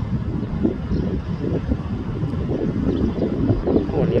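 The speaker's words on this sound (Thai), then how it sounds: "วันนี้ลมพัดแรงนะครับเสียงลมแรงมากครับ" Strong gusty wind blows at Ban Haet railway station and buffets the microphone, a steady low roar that swells and dips for a few seconds.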